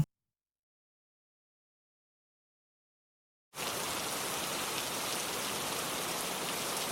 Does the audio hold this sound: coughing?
no